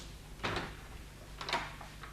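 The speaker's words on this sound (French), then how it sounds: "Doucement la porte." A door in a 1960s French radio drama is opened gently, giving two soft bumps and creaks about a second apart, quiet and close, with no talking.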